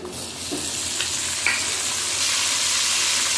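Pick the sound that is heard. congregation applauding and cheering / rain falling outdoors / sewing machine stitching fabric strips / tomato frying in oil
tomato frying in oil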